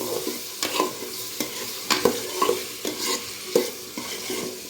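Chopped onion, chilli and tomato stir-fried in a pan for chicken vegetable pasta: loud close scraping and clattering spatula strokes in an uneven rhythm over a continuous sizzle, with no voices.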